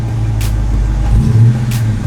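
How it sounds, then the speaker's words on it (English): A 2018 Dodge Challenger R/T Plus V8 engine revs up on the throttle, a loud, steady low rumble that swells briefly near the end, with no talking. "So when I get on the throttle, horsepower go up,"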